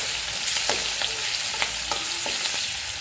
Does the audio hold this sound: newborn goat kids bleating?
no